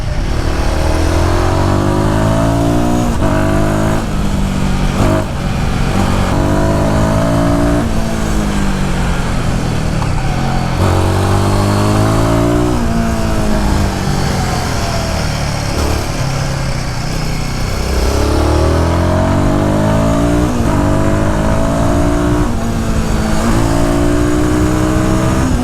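A Royal Enfield Guerrilla 450 motorcycle engine climbs and falls through repeated loud revs as the rider shifts gears without the clutch. The single-cylinder drone stays close and constant throughout, with rising pitch sweeps broken by quick shift dips.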